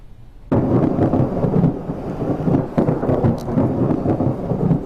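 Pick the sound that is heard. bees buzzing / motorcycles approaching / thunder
thunder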